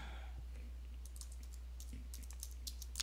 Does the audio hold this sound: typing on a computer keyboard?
yes